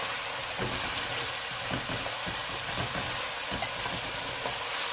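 Onions frying in a pan for fish curry, a steady dense hiss of sizzling oil with scattered soft stirring clicks and scrapes, close and continuous, no talk.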